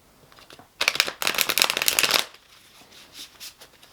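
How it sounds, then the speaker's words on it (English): A quick riffle shuffle of tarot cards, a loud fluttering burst lasting about a second and a half, followed by softer taps as the deck settles. "I'll shuffle them a few times off camera"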